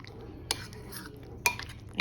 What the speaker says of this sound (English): I'm gonna mix up my sauce here